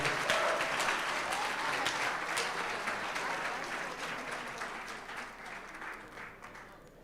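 A crowd at a live auction claps for a sold lot, a full round of applause that starts strong and slowly thins out over about seven seconds, with no talking over it.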